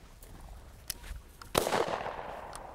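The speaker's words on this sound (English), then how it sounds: "I shot at that one. That's the only one I shot at." A shotgun shot fired while quail hunting on a North Carolina farm, a single sharp outdoor bang followed by a noisy, rustling tail in open field ambience.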